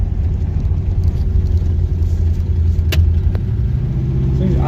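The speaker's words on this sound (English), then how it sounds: "It was idling high and it wouldn't kick down, and it seems to be doing it again." A 1979 Camaro Z28 that has sat for about fifteen years idles high with a steady, loud rumble that refuses to settle down. A single faint click breaks in near the end.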